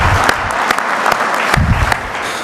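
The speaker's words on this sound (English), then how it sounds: "round of applause for USBC" An audience at the 2017 USBC bowling convention's annual meeting in Las Vegas gives a brief, dense round of applause, steady and fairly close, with sharp individual claps standing out from the wash.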